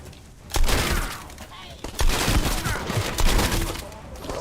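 Gunfire in The First Descendant, several loud bursts of rapid shots with sharp impacts, broken by short pauses, with some game noise in between.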